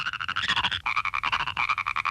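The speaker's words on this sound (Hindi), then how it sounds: "ये इतने सारे मेंढक, अब मैं क्या करूँ?" Many cartoon frogs croak together in a fast, rhythmic pulsing chorus, loud and close, with no talking over it.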